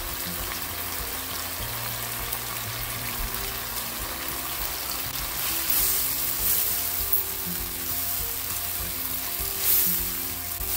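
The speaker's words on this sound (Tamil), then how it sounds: "இப்போ இந்த விதை நீக்கி எடுத்து வச்சுருக்கிற இந்த பழப்புளியையும் இந்த தக்காளி பழத்தோடு போட்டு நான் இதை வதங்க விட போகிறேன்." Tamarind, tomato and onion frying together in a pan for an eggplant thokku, a continuous close sizzle with soft stirring scrapes and a few brief hissing bursts, and no voices.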